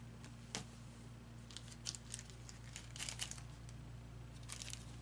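A paper envelope crinkles and tears softly as it is handled and opened, with quiet scattered rustles and crunches close by.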